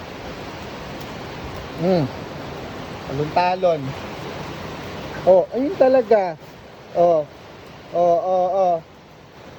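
Steady rain hissing down as a broad constant wash throughout, with people talking over it in short bursts while huskies play nearby.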